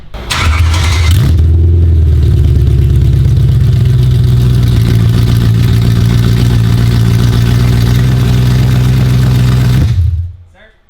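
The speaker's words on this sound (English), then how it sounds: "we might just start up the M3 just for a second, just to see how loud it is without any exhaust" A BMW E9X M3 with its S65 V8 running without any exhaust fitted cranks and catches, then idles and revs loudly and rough, a steady deep drone close by that cuts off abruptly near the end.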